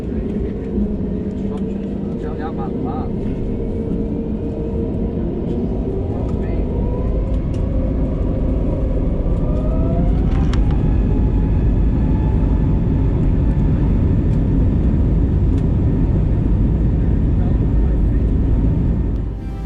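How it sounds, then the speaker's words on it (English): An easyJet Airbus A320neo takes off from Gatwick runway 26 left, heard from inside the cabin as a steady, loud jet engine roar with rising whine that builds and holds throughout. "Taking off from runway 26 left, we banked right and headed north over London"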